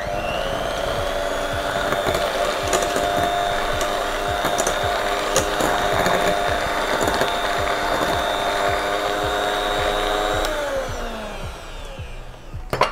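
An electric mixer whirs continuously through Christmas cake batter with essence just added, a steady motor drone with rhythmic clicking beaters that slows and winds down near the end.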